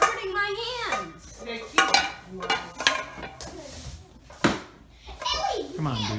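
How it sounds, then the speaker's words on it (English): Dishes and cutlery clatter and clank in a home kitchen as a child washes up, with sharp metallic knocks and rattles scattered among a child's chatter. "Javen, are you doing dishes or throwing things around"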